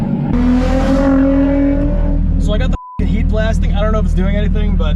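A Nissan 350Z drift car is driven on a lap at a private drift day at Englishtown, with a loud engine drone and rising revs close by, briefly cut out, and someone talking over it.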